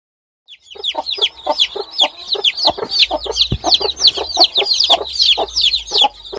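Several broody hens cluck softly and continuously close by in an enclosure, with high thin peeps of chicks chirping throughout.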